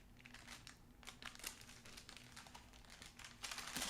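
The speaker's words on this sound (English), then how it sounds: "So I'm just peeling off gently that parchment." Parchment paper peeled gently off a baked, extra-fudgy chocolate brownie, a quiet, close run of crinkling and soft crackling that swells slightly near the end.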